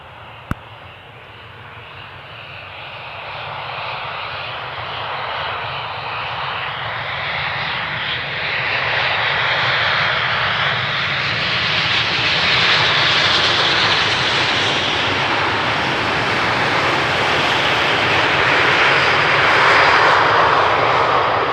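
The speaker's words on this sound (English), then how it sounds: "First up, KLM flight 990 coming in from London City." A KLM airliner on arrival from London City at Amsterdam Schiphol runway 18R roars past, its engine rumble and broad jet whoosh swelling steadily louder and shifting in tone as it passes close overhead, with no talking.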